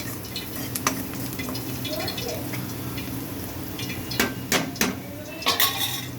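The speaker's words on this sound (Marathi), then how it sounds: "चांगले मिक्स करून घ्यायचं सगळीकडे।" Turmeric and salt are stirred through hot oil in a pan for a dill and moong dal dish, with soft sizzling under the clatter and scrape of a metal spoon striking the pan, louder knocks toward the end.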